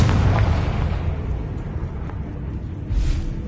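A Confringo fire-blast spell in Hogwarts Legacy, a loud booming burst at the start that rumbles and decays over a few seconds, with a smaller second blast near the end.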